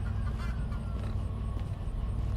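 Geese honking in a farming simulation game, a dense, steady stream of fowl calls that stays loud and continuous throughout, with no voices over it.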